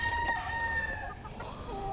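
A rooster of a Tagalog fighting-cock breed crows with a drawn-out call while nearby chickens cluck softly.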